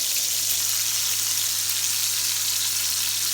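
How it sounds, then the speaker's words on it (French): Kefta meatballs frying in a pan at high heat, giving a loud, dense, unbroken sizzle that holds steady up close throughout, with a faint low hum underneath and no talking. "c'est parti pour la cuisson des keftas à la poêle à haute température"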